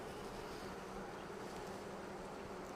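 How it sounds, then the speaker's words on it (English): Honey bees crowd a hive frame in a springtime colony, making a dense, continuous buzzing drone that stays even and fairly close throughout, with no voices. "There's a lot of bees on the frame."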